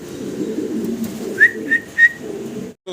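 Pigeons at a busy Bangladeshi pigeon market give three short, clear calls in quick succession over a low crowd murmur.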